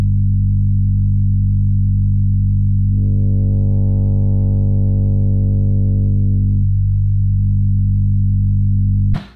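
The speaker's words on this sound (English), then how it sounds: "This is just a one band EQ and it's rolling off a lot of that high end." A saw lead synth bass drones on a steady low note under a one-band EQ rolling off the highs, sounding dark and muffled, with a brief brighter swell midway before settling back and stopping.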